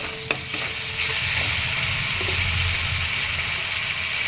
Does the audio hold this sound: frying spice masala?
yes